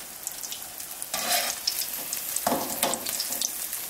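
Pumpkin pieces frying in hot oil for crisp vegan pumpkin fritters give a steady, close sizzle, with louder crackling bursts from stirring or scooping near the start and again in the second half; nobody speaks.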